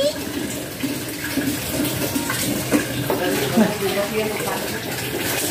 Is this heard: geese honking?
no